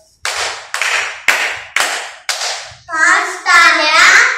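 Children count with their hands, clapping five sharp, evenly spaced claps close by, then young voices speak up at the end.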